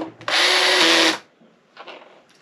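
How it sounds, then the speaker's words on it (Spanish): A power drill drives a screw into an arcade cabinet in one loud, sustained whir of about a second, followed by quieter bursts of handling. "Con este taladro se hacen las cosas bien rápido"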